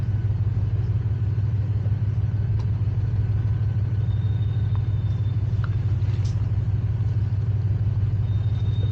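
A car drives along a road through woodland, its engine a steady low rumble that stays constant and close throughout, with no voices.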